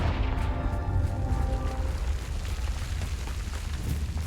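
A Confringo fire spell explodes in Hogwarts Legacy: a loud, sustained rumbling boom that roars steadily for several seconds with a deep, churning low end.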